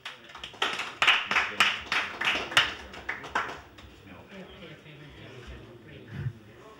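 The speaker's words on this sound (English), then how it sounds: "Give her a round of applause" At a music and song night in an Irish country hotel pub, a small group claps for a singer in a quick run of crisp, rhythmic claps that taper off as people talk.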